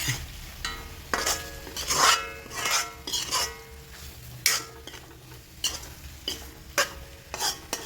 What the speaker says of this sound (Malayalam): ഇങ്ങനെ തന്നെ നമ്മൾ കുറേ നേരം കൂടെ വഴറ്റും